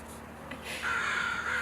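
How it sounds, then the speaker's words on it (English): Crows cawing outdoors, a few harsh calls rising to a sustained loud caw, fairly close with no talk over them. "Seriously, be quiet, birds!"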